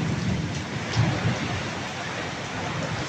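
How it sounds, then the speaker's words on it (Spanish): Heavy rain hisses steadily over a low rolling rumble of thunder, a continuous wash of sound with a few soft low swells and a faint voice in the background. "Hoy tronidón."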